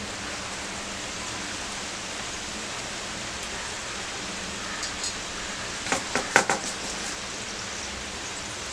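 Pumpkin kombdi vade frying in hot oil, a steady broadband hiss of bubbling oil throughout with a few brief crackling pops near the end, no voices.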